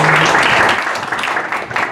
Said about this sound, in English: a great round of applause to Rabbi Yisroel